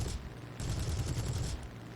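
A Spitfire firing its machine guns and cannons in War Thunder, a dense rapid burst of gunfire lasting about a second amid engine drone.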